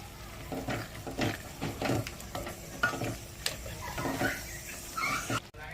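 A spoon stirs a ridge gourd and moong dal curry with coriander-cumin powder, red chili powder and garam masala in a pan, giving repeated scraping strokes over a soft sizzle, fairly close and with no talk.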